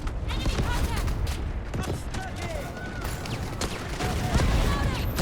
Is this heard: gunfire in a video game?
yes